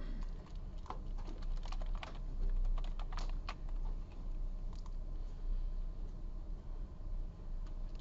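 Rapid, irregular keystrokes on a computer keyboard as a C source file is typed during a programming lecture, clicking steadily at moderate distance over a low room hum, with no talking.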